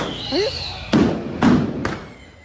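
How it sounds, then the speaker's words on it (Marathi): Firecrackers explode in a busy village square during a Diwali celebration: three loud, close bangs in quick succession, following a faint rising whistle. "आता इथं लय फटाकड्या वाजतील."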